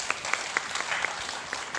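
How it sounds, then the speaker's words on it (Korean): An audience at the 2015 New York Philharmonic young composers results concert in Tongyeong applauds the child composers. The applause is fairly quiet and steady, with a few individual claps standing out over the softer wash of hands. "수고해주신 새 작곡가님들에게 큰 박수 다시 한번 부탁드립니다"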